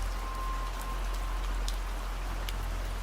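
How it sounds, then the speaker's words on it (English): Steady rain falling in the woods, a continuous even hiss of drops with a few louder splashes, close and unbroken, no voices. "It's raining again."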